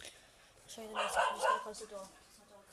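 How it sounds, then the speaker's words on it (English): Dogs barking in the background of a room, short yips and barks mixed beneath a person talking close by. "Sorry about the noise in the background, that's my dogs."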